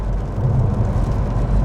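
A Toyota Avensis 2.2 D-4D diesel engine lugs at very low revs while driving, a steady, deep rumble with a constant hum and no voices.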